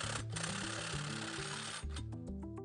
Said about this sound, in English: AHS5520Li hedge cutter when cutting along paths and walls